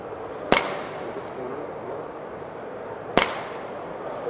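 Two sharp gunshots ring out about two and a half seconds apart during a Mantis X10 Elite shooting-performance test at the IWA 2023 trade show, each a loud crack with a short echoing tail over low background noise.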